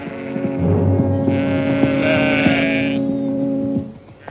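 A sheep bleats in a wavering, drawn-out cry during a 1950s radio drama about Sir Lancelot, set over a low steady hum and faint rustling, with no speech.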